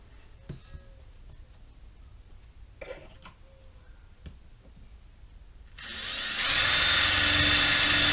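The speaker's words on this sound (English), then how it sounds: "now all we have to do is go ahead and drill that out and dry fit that" Light clinks and handling of tools, then a power drill whirs loudly and steadily for the last couple of seconds, close by, drilling mounting holes for a CB radio bracket in a 1974 GMC RV.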